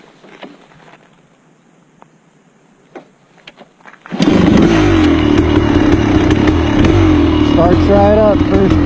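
Kawasaki KX500 two-stroke dirt bike fitted with a TPS ignition and Powerjet carburetor kicks over and barks to life, then holds a loud, close, raspy idle with blips of revving; faint speech and shuffling come before the start.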